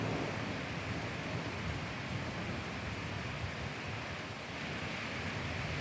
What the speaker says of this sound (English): It's just little hail, like maybe pea-sized.